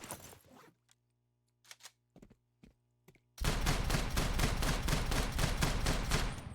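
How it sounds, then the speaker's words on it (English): Rapid shotgun fire in the Stalcraft video game, a few sparse shots followed by a loud, dense burst of repeated blasts that runs steadily to the end. "This is definitely my favorite shotgun now."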